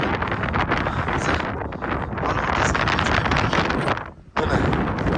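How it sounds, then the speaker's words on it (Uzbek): Strong gusts hit a phone microphone on a suspension bridge, making loud, rough roaring buffets that drop briefly near the end before surging back. "Shamol juda qattiq"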